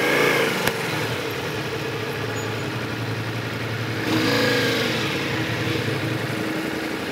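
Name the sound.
motorcycle engine running after being started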